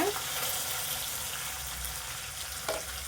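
Crushed garlic and curry leaves hit hot oil, producing a brief, steady sizzling hiss close up, with a faint voice at the start.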